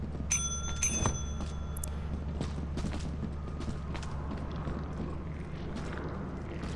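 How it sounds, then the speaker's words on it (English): A desk bell in the Lethal Company video game rings a few quick metallic times near the start, its clear tone lingering briefly. Soft clicks and game noise follow over a low steady hum. "Hit the bell to get his attention"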